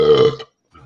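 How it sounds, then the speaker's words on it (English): A single loud, close burp from a person during a casual evening chat, one throaty voiced gulp lasting under half a second, followed by a short faint trailing breath. "That did not mean belch at me."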